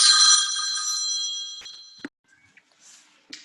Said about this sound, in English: the phone on airplane mode, but I decided to ring anyway